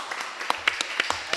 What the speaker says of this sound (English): And you have a cheering section too.